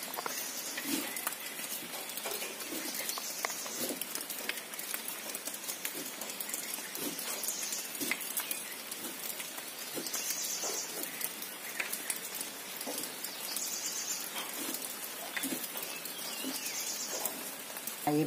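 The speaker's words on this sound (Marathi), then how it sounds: "आणि बाहेर असा मस्त हलका पाऊस चालू आहे." Light rain falls outside, a soft, faint, continuous patter with occasional birds calling through it.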